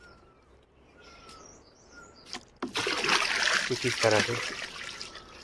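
Spray solution for treating bacterial disease on apple and pear trees is poured into a drum, a loud splashing gush that starts suddenly and runs steadily for a few seconds after quieter moments with a brief spoken remark.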